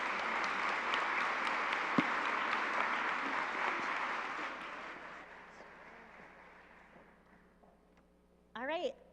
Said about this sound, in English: A round of applause for our students.